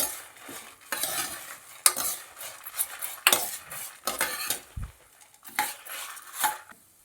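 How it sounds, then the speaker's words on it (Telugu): Spices stirred and fried in a pan until they take on colour, with repeated scraping and clinking of a utensil against the pan in irregular bursts and a faint sizzle underneath, close up and without talk. "కలర్ వచ్చేలాగా వేపుకోవాలి."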